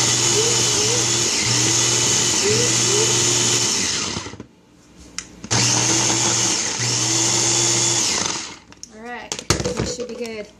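A blender runs loudly in two bursts with a short pause between, its motor pitch wobbling as a banana shake churns, then clattering handling noises follow.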